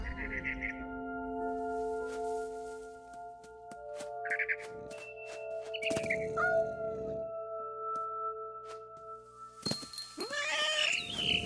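A cat in What Remains of Edith Finch meows several times over a quiet, tonal game backdrop, with short mewing calls spread out and a louder, strained cry near the end.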